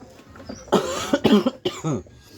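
A run of several harsh, close coughs from a person with a cold, in quick succession, loud and clearing the throat, with no talking.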